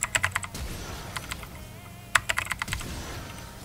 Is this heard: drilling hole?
no